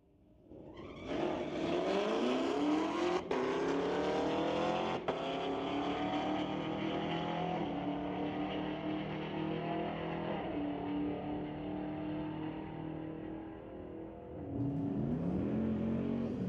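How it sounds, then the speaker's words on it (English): A Ford Mustang and a 2019 Camaro launch side by side in a street-legal drag race at a raceway, their engines rising into a long sustained roar that holds loud for many seconds, then fades and climbs again near the end. "Brings up Ken Christensen in the Mustang, racing AJ Sandu in the 2019 Camaro."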